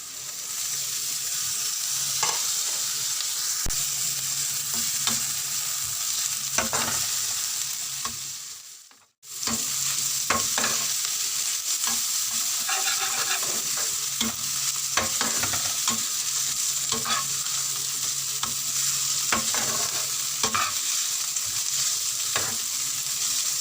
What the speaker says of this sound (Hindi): अब हम इसमें डाल देंगे लहसुन और अदरक का जो पेस्ट है।